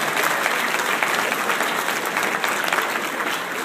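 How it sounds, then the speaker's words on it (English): Audience applause from a packed hall at an evening address in Houston, steady dense clapping that holds loud and even throughout with no voices over it. "Let's give them a round of applause."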